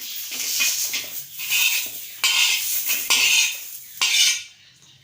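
Fried onion and green chillies are scooped out of a pan with a metal spoon: a short run of close scraping and clinking bursts with brief pauses, and a faint sizzle behind them.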